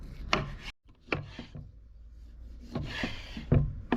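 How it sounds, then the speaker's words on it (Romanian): Lemons being sliced with a knife on a board: several close, sharp cuts and thuds at uneven intervals, with soft rubbing between the strokes. "Acum vom tăia felii lămâile."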